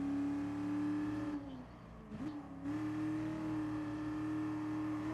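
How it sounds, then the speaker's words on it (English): Ford GT40 race cars from a racing video game at Goodwood, engines droning loudly and steadily, dipping briefly as if lifting off the throttle, then surging back to a sustained high-revving whine. "But we are racing GT40s at Goodwood"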